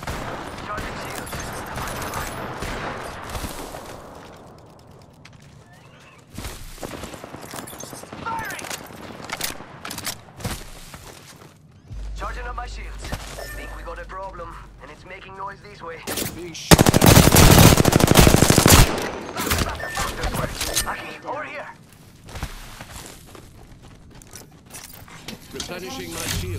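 Automatic weapons fire rattles in long, loud bursts during an Apex Legends Season 17 match, with rapid shots, a sustained heavy stretch of gunfire, and game voice lines and effects between the volleys.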